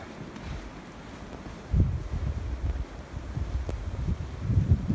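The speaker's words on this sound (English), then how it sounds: "Wind's got a little bite to it." Blizzard wind roars outdoors on a snowy walk, with low buffeting gusts hitting the microphone. It rises in force partway through and stays rough and rumbling, with no talking.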